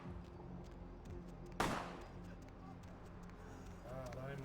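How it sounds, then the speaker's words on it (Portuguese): A single sharp gunshot cracks out amid a busy Vampire Bloodlines video game mix of background sound and voices. "Ali, ó, falei que tinha porradaria e tiro."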